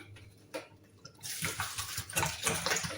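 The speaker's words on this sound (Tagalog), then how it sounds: "Hugasan ko ng galing dito sa filter" Tap water from a filter faucet runs over fresh spleen amaranth spinach leaves being washed, a steady splashing stream that swells louder after a quiet start, close and continuous with no talk.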